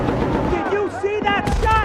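Gunfire in the video game Battlefield: Bad Company, with loud, close bursts over a constant battle roar while voices shout over the shooting.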